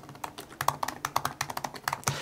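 Fingers tap out a burst of quick keystrokes on a computer keyboard, the clicks close and crisp in an uneven but steady run.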